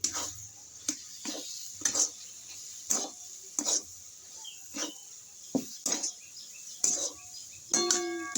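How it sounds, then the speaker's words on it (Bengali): Sweet mixture for green-coloured grape-shaped sweets being stirred in a pan, with steady scraping strokes about once a second, close and moderately loud, and no talking. "এইভাবে অনবরত নাড়তে থাকবো যতক্ষণ না এর জলটা শুকিয়ে যায়।"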